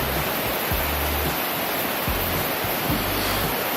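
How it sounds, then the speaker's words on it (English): Waterfall near Rob Roy Glacier in a mountain valley, a steady broadband roar of falling water that holds constant throughout, with faint low rumbles underneath and no voices. "From here you can already see the glacier and a very special waterfall."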